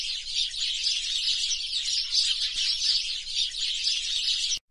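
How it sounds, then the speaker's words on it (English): A dense flock of birds chirps and twitters without pause as they descend on a crop field, a loud bright hiss of overlapping calls that cuts off abruptly at the end. "many birds attacked the field and the crops were destroyed"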